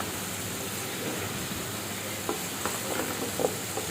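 Spices sauté in the oil left from frying hilsa head and tail for a bottle gourd and hilsa head curry, giving a steady close sizzle with a few light stirring scrapes near the end, no voices.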